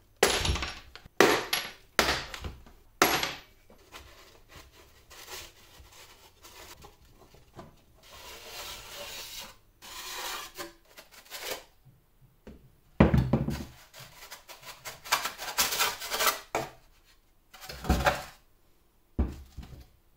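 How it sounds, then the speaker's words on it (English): Plastic case being pried apart by hand from a Honda Beat, held together by screws and clips, giving a series of sharp cracks, snaps and scraping rubs in irregular bursts, close and fairly loud with quieter handling between. "I'm going to try and split this case apart now to try and get the core out"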